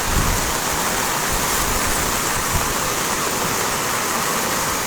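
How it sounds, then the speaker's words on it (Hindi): Steady, dense monsoon rain pouring down without a break near the Salal Dam on the Chenab River, a thick continuous hiss filling the whole stretch with no voices. "इस समय जिस तरह से तेज बारिश हो रही है ना, ये बारिश आफत की बारिश है।"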